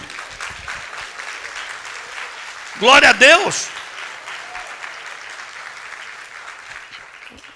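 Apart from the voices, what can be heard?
church congregation applauding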